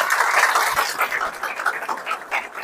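Applause from an audience at a Buddha statue installation ceremony in a vihara, honouring Ganesh Kinikar: a steady wash of many hands clapping, moderately loud and continuous with no voices over it.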